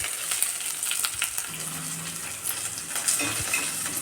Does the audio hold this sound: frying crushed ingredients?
yes